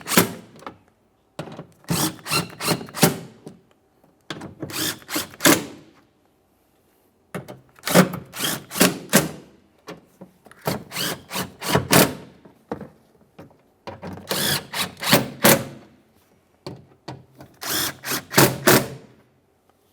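A power tool snugs bolts on the front exterior door handle of a 2011-2021 Jeep Grand Cherokee: six loud, close bursts of rapid rattling impacts separated by short pauses.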